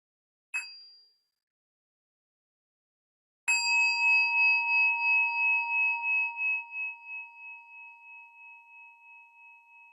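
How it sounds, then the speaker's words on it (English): A meditation bell is struck twice: a short first tap, then a full ring whose clear, steady tones hang and slowly fade over several seconds in a quiet room. "We'll begin the meditation with the sound of the bell."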